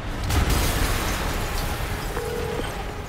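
An explosion in the Spider-Man Remastered video game hits as a loud, deep boom that rolls into sustained rumbling noise, followed by a brief faint tonal whine.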